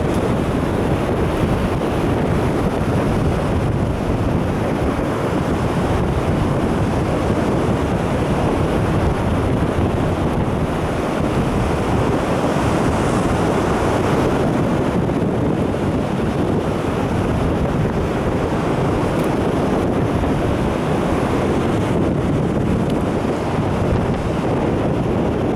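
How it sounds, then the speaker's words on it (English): Strong wind buffets the microphone at a shoreline fishing spot, a loud, continuous roar blended with the wash of waves, unbroken and without voices. "there's a little bit of wind there."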